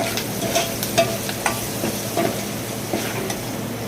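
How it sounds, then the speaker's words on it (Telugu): Mustard seeds, cumin, crushed garlic, green and dried chillies and curry leaves fry in hot oil with a steady close hiss, scattered small pops and a few soft stirring scrapes. No one speaks. "ఆవాలు, జీలకర్ర, ఎల్లుల్లిపాయలు చిదుముకొని అలాగే పచ్చిమిర్చి, ఎండుమిర్చి, అలాగే కరివేపాకు కూడా వేసి దోరగా వేయించుకోవాలి"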